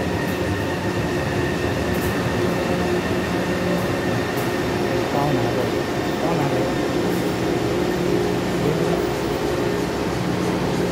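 Taipei MRT C301 metro train at Hongshulin station on the Tamsui-Xinyi line, a steady close rumble of steel wheels on rail with whining motor tones and faint squeals, continuous throughout.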